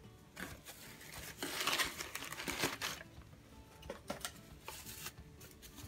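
Soft crinkling and rustling of plastic, handled in bursts with brief pauses, quiet and close, no voices.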